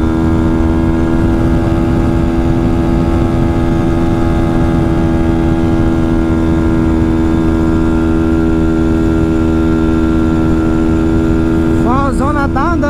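A modified Honda Fan 160 motorcycle holds high revs against the rev limiter, a loud, close, sustained buzzing drone with a pulsing cut-out texture, and the pitch sweeps briefly near the end.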